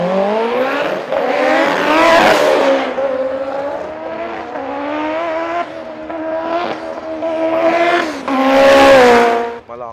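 A Pro 4 drag race car at a qualifying day revving hard during a burnout and launch, its engine note rising and sweeping in repeated climbs, loud and near, with a tire squeal toward the end.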